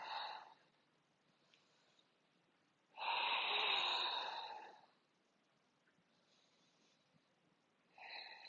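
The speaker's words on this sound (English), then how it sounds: "Keep breathing." Slow, deep breathing during a yoga standing split in a hamstring flow: two faint breaths, then a long, louder exhale of about two seconds, with quiet pauses between and another breath starting at the end.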